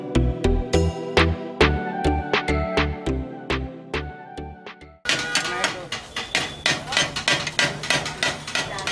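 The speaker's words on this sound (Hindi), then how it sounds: "ये कटाकट की आप जो आवाज है ना, आपको परपेचुअली सुनाई देती रहेगी" A metal spatula chops and clatters on a street food griddle cooking soya dal and raw banana kebabs at a vegetarian market stall. Rapid, rhythmic metallic clacks repeat close by, then a busier, noisier stretch follows.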